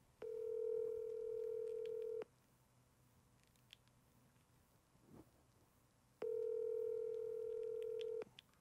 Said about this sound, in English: Let me see this nigga Keem answer the phone